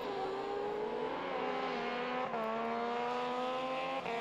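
Several senior cross-car race cars at the Mettet rallycross circuit roar along together, their engines holding a steady, loud, high-pitched drone with rising and falling revs as they compete, without a break across the whole stretch.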